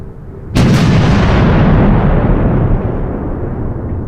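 Massed artillery of a WWI creeping barrage at Vimy opens with a sudden loud blast, then a sustained roaring rumble of continuous fire that slowly thins.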